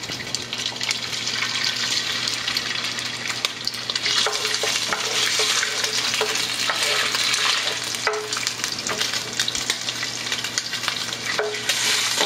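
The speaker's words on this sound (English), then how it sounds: "I'm going to saute that in the pan." Chopped bratwurst with the casing removed, sautéing in a pan, a steady sizzle under a low constant hum, with scattered stirring scrapes and a few brief clinks along the way.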